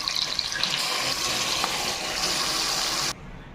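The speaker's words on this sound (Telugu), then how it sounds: "ఈ విధంగా తగినన్ని వాటర్ వేసుకోవాలి." Water pours steadily into a pressure cooker holding stuffed eggplant curry with tamarind juice, a loud continuous gushing stream that stops abruptly near the end.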